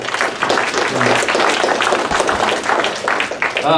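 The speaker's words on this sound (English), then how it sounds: "So round of applause for the 2007" A crowd at a hall of honor induction applauds with steady, dense clapping that fills the room, with a few voices mixed into the noise.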